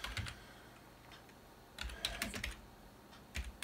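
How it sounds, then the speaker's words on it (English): Keys clack on a computer keyboard feeding an RS232 serial output, quiet close taps in short irregular bursts with pauses between, no voices. "the RS232 output from the keyboard is quite handy as you're typing away"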